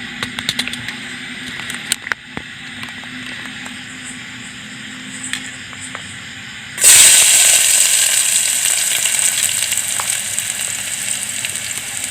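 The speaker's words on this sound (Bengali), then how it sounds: "পেঁয়াজ ছাড়বো পেঁয়াজ ছাড়া হবে" Onions dropped into hot oil after eggs were fried: a quieter background sizzle with scattered clicks gives way at about seven seconds to a sudden loud, bright hiss that then settles slightly into sustained close frying.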